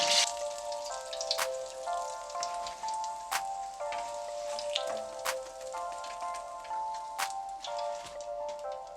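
Dense crackling and popping of thin-wrapped vegetable egg rolls frying in hot oil, steady and fairly close, with sharp spits now and then; no one speaks.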